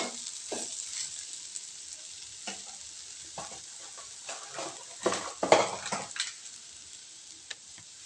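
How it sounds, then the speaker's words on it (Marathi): Aloo matar paratha filling of potatoes and peas is stirred through hot oil in a pan, a steady sizzle broken by scraping spoon strokes that swell to a louder run of stirring near the middle. "आणि व्यवस्थित आपल्याला तेलामध्ये हलवून घ्यायचं आहे."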